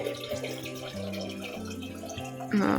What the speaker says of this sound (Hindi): तो भाई अभी फटाफट से पानी ऐड करके इसके अंदर,